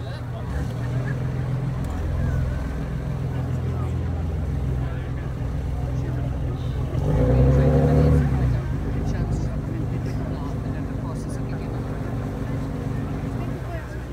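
Heavy Scania diesel engines of a Shannon Class RNLI lifeboat drone steadily and loudly throughout, with a low rumbling hum that swells briefly partway through.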